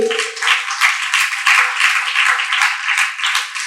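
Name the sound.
congregation clapping hands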